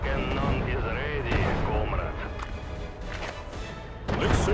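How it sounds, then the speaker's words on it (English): Soviet tank guns fire in a WWII real-time strategy game, a T-44 versus Chi-Ri battle, with sharp booming blasts over a steady bed of music and game noise while voices speak. "Listen, roar of the Soviet guns."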